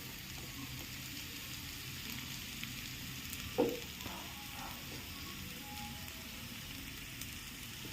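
Onions fry in a pan for a Kerala-style nadan chicken perattu, giving a soft, continuous sizzle throughout. A single brief clink of a utensil sounds midway.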